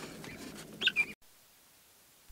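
Backyard coop with chicks and hens, a short burst of clucking and squawking with two sharper calls close by, then it cuts off abruptly into near silence.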